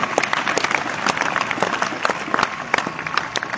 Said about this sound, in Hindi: एक बार फिर से आप सभी बच्चों के लिए जोरदार तालियां